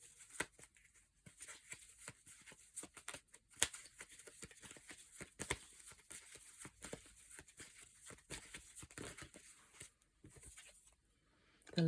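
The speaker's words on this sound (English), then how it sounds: "Just give them a good old shuffle." Tarot cards being shuffled by hand, a quiet, close series of irregular riffling and flicking bursts with short pauses between them and no talk.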